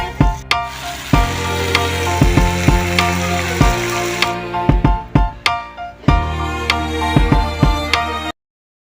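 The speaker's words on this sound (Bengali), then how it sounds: "এদিকে কাঁঠালটা ভাজা হোক" Jackfruit frying in a pan with turmeric and spices, with loud sizzling under repeated sharp clinks and scrapes of a utensil stirring against the pan, ending suddenly.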